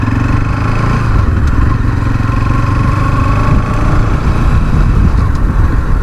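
Loud, continuous exhaust drone of a Bajaj Pulsar NS 200 motorcycle being ridden hard on an open road, steady engine rumble with wind, close and unbroken for the whole stretch.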